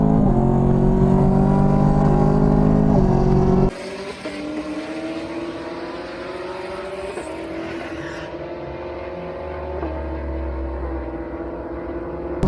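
Cammed 2019 Camaros accelerating hard in a drag race, a loud sustained engine roar climbing through gear shifts with rising pitch, heard close and alone with no talk over it.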